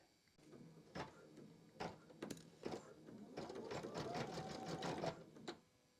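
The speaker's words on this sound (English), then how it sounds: "So I'm just trying to stitch from about here, and then once it gets to about the corner, I'm going to stop my machine." An embroidery machine stitches a bench pillow or wall hanging in short, quiet whirring bursts with brief pauses, then runs more steadily before stopping.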